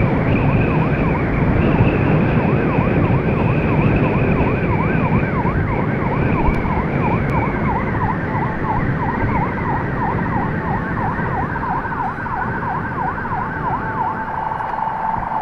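A loud ambulance siren wails continuously in a rapid up-and-down pattern, close by, with a rumbling vehicle engine underneath throughout.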